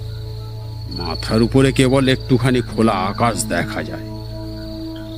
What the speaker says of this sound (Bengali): ঝিঝি ডাকছে জঙ্গলে